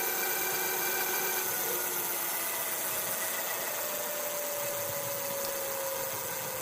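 The motor of a Corso Rocco 24-inch 500W 48V electric bicycle runs in third gear, giving a steady, continuous hum with a faint whine that holds without pause throughout.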